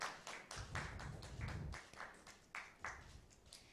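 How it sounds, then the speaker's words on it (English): An audience at a heritage day event claps for presenters, a quiet, thin patter of scattered hand claps in an uneven rhythm from a small crowd. "A round of applause, please."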